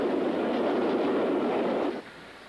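A 9F steam locomotive hauling a fully loaded iron ore train of 11 wagons plus brake van, about 1,000 tons, on the Borderlands line to Shotton steel works, passing as a loud, steady rumbling roar that drops away sharply near the end.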